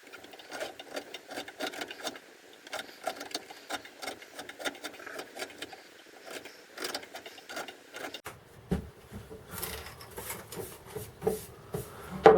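The end of a wooden walking stick is tapered down to take a rubber foot, producing rapid, uneven rasping and scraping strokes up close. The sound grows rougher and heavier partway through.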